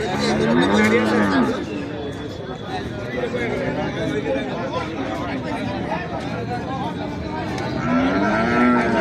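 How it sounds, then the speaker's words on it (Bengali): Cattle low loudly at the Saruliya weekly cattle market, with one long moo at the start and another near the end over a constant hubbub of crowd chatter and nearby talk. "অনেক বড় একটা গরু গাই গরু"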